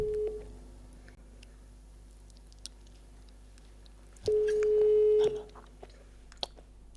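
A telephone ringback tone sounds while a call is placed to a well-known Sri Lankan music director: one short steady tone at the start, then a longer, louder tone burst about a second long, over a faint, quiet background.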